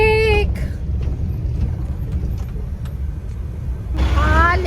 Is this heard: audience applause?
no